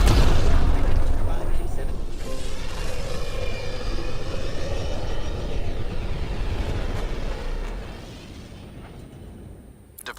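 The Tempest starship departs in Mass Effect Andromeda with a loud, deep rumbling roar that fills the scene and slowly fades toward the end. A voice is heard over it.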